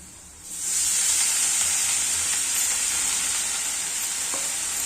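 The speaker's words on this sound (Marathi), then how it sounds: "आपला लसूण आणि मिरची फ्राय झालेली आहे भाजी टाकून घेऊया" Chickpea greens dropped into hot oil with fried garlic and chili erupt in a loud, sudden sizzle that holds steady as a bright, close hiss, with a faint utensil tap near the end.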